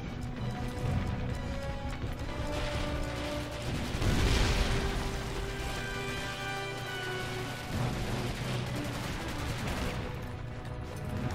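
Explosions and gunfire roar in the video game Medal of Honor: European Assault, a continuous dense barrage with a heavier blast swelling near the middle and more bursts toward the end.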